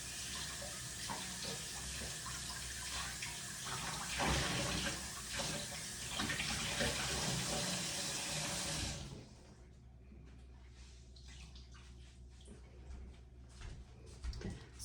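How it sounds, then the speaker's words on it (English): A tap runs loudly into a sink as hands are washed, splashing steadily for about nine seconds before the water shuts off, leaving quieter dripping and rustling. "I'm gonna wash my hands"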